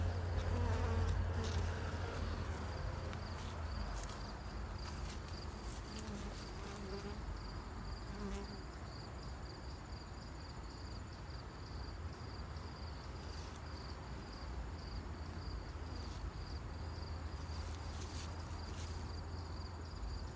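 Honey bees hum and buzz around an open hive frame during an inspection, a steady close swarm drone that holds throughout with faint handling noises and no clear talk.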